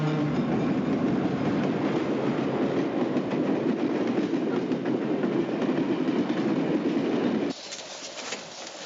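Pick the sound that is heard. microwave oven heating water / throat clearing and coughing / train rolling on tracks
train rolling on tracks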